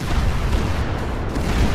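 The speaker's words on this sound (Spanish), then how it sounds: "Esta es una especie de explosión" A sustained, rumbling explosion effect from a Superman mod in the GTA V video game roars as a dense, continuous blast of noise, loud and unbroken, with no voices.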